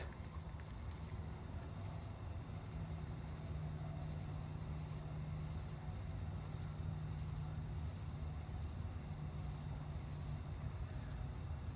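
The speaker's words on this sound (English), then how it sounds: "Yeah, that definitely sounds like a common short-tailed cricket." A common short-tailed cricket trills in a continuous, highly even high-pitched tone that runs unbroken for the whole stretch over a low background hum, with no talking.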